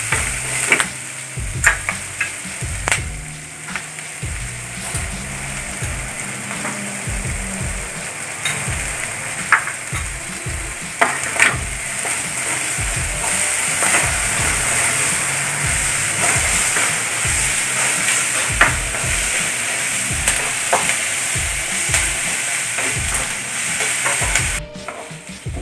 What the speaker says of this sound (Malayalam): അപ്പോൾ കുറച്ച് ഉപ്പും പൊടിയും കൂടി ഇട്ടിട്ട് നമുക്കത് വാട്ടിയെടുക്കാം